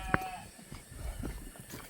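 Goats in a pen at a remote forest homestead, with one sharp, brief bleat near the start followed by fainter animal sounds and low outdoor rumble.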